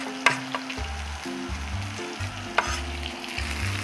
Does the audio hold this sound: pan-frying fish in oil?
yes